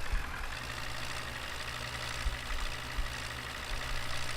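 An old tractor engine idles in the Farming Simulator 15 video game, a steady low rumbling drone that holds level throughout with no voices.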